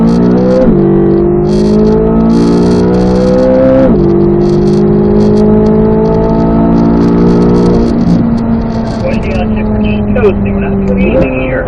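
A C8 Corvette Z06 accelerates on a race track, its engine note climbing steadily through the gears with sharp drops at each upshift; an instructor speaks over the loud, continuous engine.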